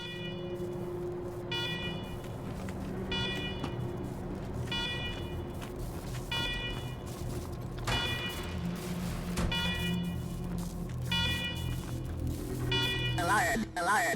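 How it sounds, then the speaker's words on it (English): An alarm sounding in the video game Wasteland 3: repeated pulsing electronic tones blare in regular bursts over a low background hum, with a brief rising warble near the end. "Alarm, alarm, alarm."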